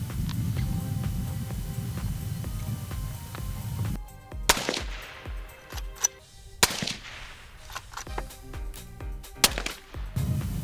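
Handgun shots fired for a group at a shooting range, several sharp cracks spaced a second or two apart after a low humming stretch, fairly loud against the background with no talking.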